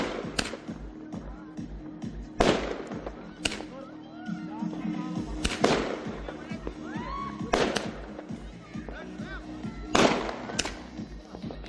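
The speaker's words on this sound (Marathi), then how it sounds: "मरीन ड्राईव्हवर रात्री 12 वाजता फटाके फोडून नववर्षाचे स्वागत करण्यात आले" Fireworks and firecrackers burst at midnight on Marine Drive to welcome the New Year, sharp loud cracks coming every second or two over a festive crowd hum, with voices and whistling whooshes between the bangs.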